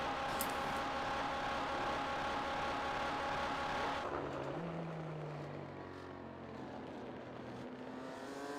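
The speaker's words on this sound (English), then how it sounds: "the Corvette GTE sounds broken when it's on the limiter" Corvette GTE race car engine in iRacing, bouncing on the rev limiter with a harsh, broken-sounding buzz, loud and steady, then dropping to a lower droning note with a brief rising tone.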